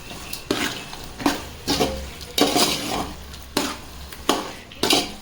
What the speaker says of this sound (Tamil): அதை போட்டு நல்லா அந்த மசாலாவோட நல்லா கலரி விட்டுக்கோங்க